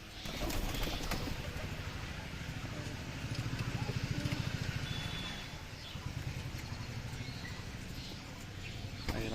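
Domestic pigeons, including a mati pigeon, in a home loft give soft, low cooing calls. The calls are faint and come in a short run midway, over quiet background noise with occasional light rustles.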